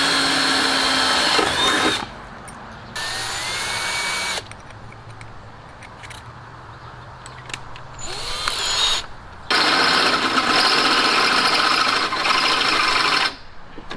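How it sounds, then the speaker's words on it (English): A cordless drill boring a pilot hole to mount a 42.5-inch OEDRO LED light bar, whining in loud close bursts with short pauses between runs. "we're gonna drill the first pilot hole"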